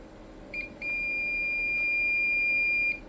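A multimeter gives a single steady continuity-test beep while probing an Allpowers R4000 power bank, a clean electronic tone lasting about two seconds after a brief blip, close and alone with a faint hum of running fans.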